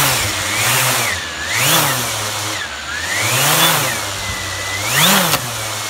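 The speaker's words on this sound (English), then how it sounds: "Now we should be able to start the motors." Motors of a Hubsan Zino drone, freshly fitted with a replacement ESC, spinning up and down in repeated throttle surges, a close, loud buzzing whine that swells and falls in several cycles.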